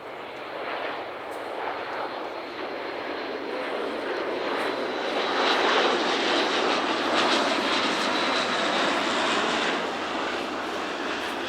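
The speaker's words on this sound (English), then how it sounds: "a pair of flypasts by the successor to the Hercules in RAF service," An RAF Atlas C1 military transport aircraft making a flypast at the Cosford Air Show: a broad, roaring turboprop drone that swells gradually louder toward the middle and holds, steady and continuous.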